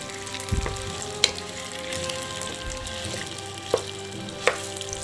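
Korean rice cakes (garaetteok) frying in oil while being stirred, giving a steady close sizzle broken by a few sharp clicks and taps of the utensil against the pan.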